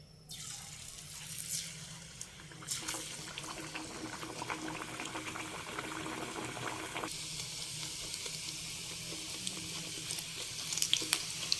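Nunia pitha, a salty rice cake, dropped into hot oil and frying, building into a steady hissing sizzle with crackles that grow denser toward the end, no talking.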